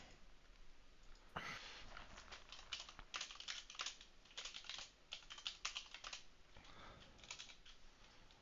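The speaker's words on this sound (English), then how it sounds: "Oh, you're typing in there too." Computer keyboard typing in a quiet room: irregular bursts of soft clicking keystrokes that start after a short pause and come in uneven clusters, fairly close to the microphone, with no talking.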